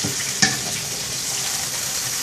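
Turkey rope sausage sizzling in oil in a pan, a dense steady crackle close by with one brief clink of a utensil early on.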